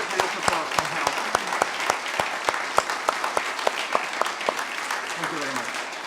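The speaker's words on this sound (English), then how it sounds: "You will receive a nice round of applause, I'm sure, from the audience." An audience at a museum congress plenary session applauds a speaker, a moderate, fairly even round of clapping with distinct individual claps and a faint voice near the end.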